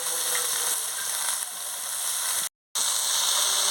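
Vegetables and spices being stirred in a hot frying pan for a fish-head chorchori, with carrots, drumsticks, eggplant and potatoes: a steady close sizzle with faint scraping, broken by a brief silent gap.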